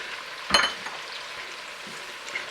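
Onions softening in a pan for French onion soup, a faint steady sizzle with one sharp clatter of a spoon or lid near the start and a few soft stirring knocks after.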